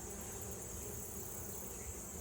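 Honey bees buzzing steadily around an open hive while a honey super's frames are handled, a dense, continuous hum that holds at an even level throughout with no voices over it.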